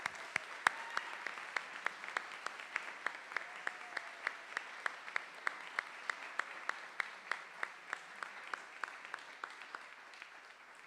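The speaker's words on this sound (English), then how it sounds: "Please join me in one final round of applause for our newest members." Audience applause at a National Honor Society induction ceremony settles into a fairly faint, steady clapping that keeps an even beat for about ten seconds.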